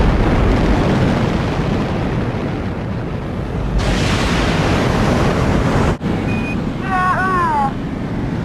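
Apollo 11 Saturn V rocket launch: a loud, continuous broadband roar fills the whole stretch, briefly cut near the end, with faint radio tones and chirps over it.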